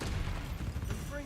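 A Bombarda blasting spell in Hogwarts Legacy, a short, dense booming burst of explosive rumble with a brief shimmering tone at its tail.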